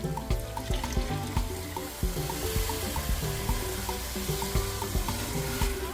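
Egusi melon soup frying in oil in a pot, with a steady close sizzle and the repeated scraping knock of a spoon stirring against the pot, continuous and alone without talk.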